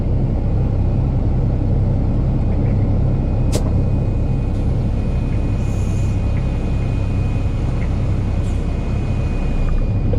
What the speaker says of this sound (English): This is the first dump truck that I ever learned how to drive on.